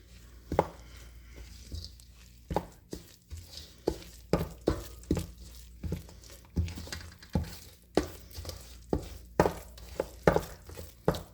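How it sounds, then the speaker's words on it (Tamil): Rice flour dough for kolukkattai being mixed in a bowl: a steady run of soft knocks and pats, roughly two a second, close and quiet, with no talking. "இப்படி கொஞ்சம் கொஞ்சமாக ஆட் பண்ணி மிக்ஸ் பண்ணிக்கோங்க."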